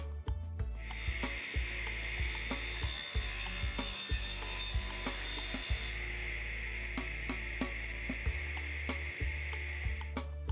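Table saw cutting 3/8-inch slots into the corners of a Southern pine serving tray: a steady high whine with rapid repeated ticking, close and loud, no talk.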